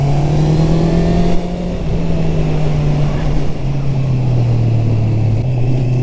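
A Honda CB650R motorcycle engine holds a steady, droning note under throttle, continuous and loud with wind rush, the pitch dipping slightly as the rider eases and reapplies the gas.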